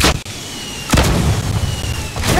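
Egg launcher blasts go off in the Fortnite video game, with a sharp boom at the start and another shortly after, each followed by a rumbling, noisy decay.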